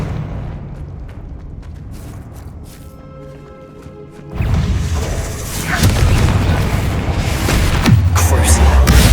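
A Confringo blasting spell detonates in Hogwarts Legacy on PS5, a sudden loud boom near the middle that opens into a sustained rumbling roar of debris and fire, staying heavy and dense to the end.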